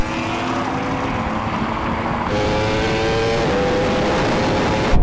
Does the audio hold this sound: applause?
no